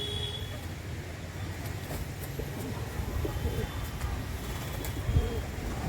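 Soft, low cooing of a single-crest pigeon repeats quietly against a steady background rumble, with faint distant noise around it.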